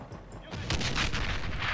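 Gunfire in the real-time strategy game Men of War: Assault Squad 2, a 2v2 match; after a quiet start, a loud dense burst of shots and booms sustains for about a second, with no talk over it.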